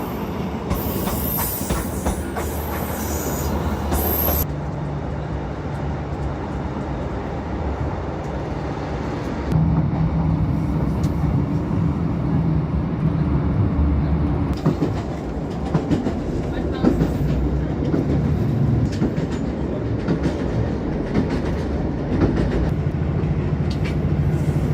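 A train rides into Dumbarton Central station in Scotland with a steady rumble, clickety-clack of the wheels and squealing as it slows, heard from on board. Brief voices come through in places.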